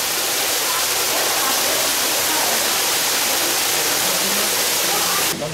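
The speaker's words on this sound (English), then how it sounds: "a waterfall welcomes you here to the red ruff lemur exhibit" A waterfall at the red ruff lemur exhibit of the Bronx Zoo pours with a steady, dense rushing hiss that holds loud and unbroken throughout.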